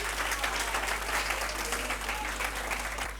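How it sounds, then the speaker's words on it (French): Loud, sustained applause from an audience at a high school awards ceremony welcomes a speaker, a dense wash of many hands clapping steadily with a low electrical hum beneath. "On applaudit très très fort pour lui."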